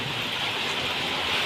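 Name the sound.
heavy monsoon rain falling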